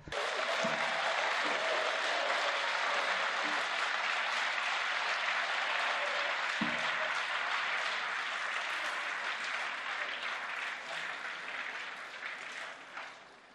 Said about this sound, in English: Potrete applaudirlo anche adesso.